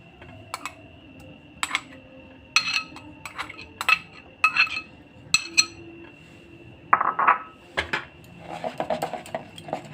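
Spoon stirring eggless semolina cake batter in a bowl: a string of sharp, uneven clinks and taps of utensil against the bowl, with soft scraping between strikes.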